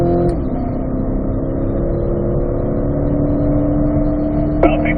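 A race car accelerates around a track lap during a warm-up session, its engine droning loud and steady at high revs without pause, with a brief shift-like blip near the end.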